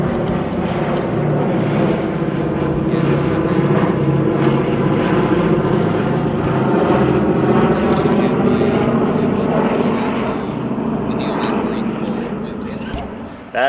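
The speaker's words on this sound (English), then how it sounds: "It's a B-17. It was big." A B-17 bomber passes overhead, its piston engines and propellers giving a loud, steady droning roar that fills the whole stretch, swelling slightly and then fading near the end; people's voices are faint beneath it.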